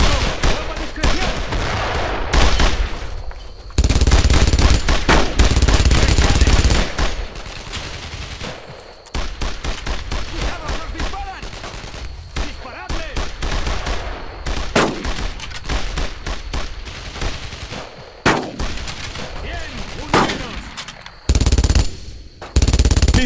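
Heavy battle gunfire from a World War II video game, with machine-gun bursts and rifle shots crackling near and loud almost throughout, pausing only briefly, while soldiers shout orders in Spanish over the shooting.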